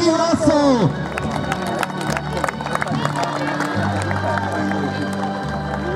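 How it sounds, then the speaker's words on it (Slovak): Audience at a western riding event on a farm arena applauding the riders, a steady spread of clapping with some cheering from the crowd, while an announcer talks over a loudspeaker. "poprosím potlesk pre všetkých jazdcov"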